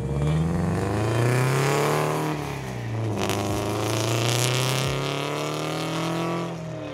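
A modified Subaru WRX with its rubber bushings removed, its loud engine droning and revving steadily from inside the cabin while driving, the pitch falling and rising again over several seconds.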